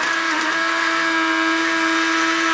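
Double-headed Hornby diesel/electric model locomotives run along the track with a loud, steady electric-motor whine and a constant high hum, close and continuous throughout.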